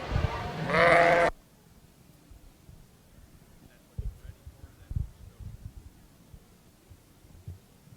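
At a livestock show ring, one sheep gives a single loud, close bleat that cuts off abruptly, followed by faint scattered knocks and shuffles in a quiet hall.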